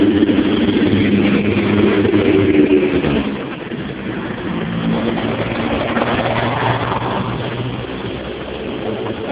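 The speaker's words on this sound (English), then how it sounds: "We have a lot of trucks going by" Heavy trucks rumble past on a nearby road, a loud low engine drone that swells and then eases into a steady passing roar for several seconds, with no talking.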